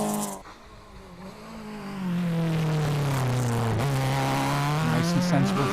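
A Toyota Starlet rally car on a stage of the Ulster Rally, its engine rising from quiet into a sustained loud drone that holds steady as it passes at moderate distance.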